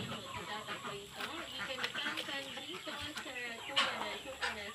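Ducks and chickens being fed organic feed make a busy, steady chorus of clucks and quacks close by, with a voice talking among them.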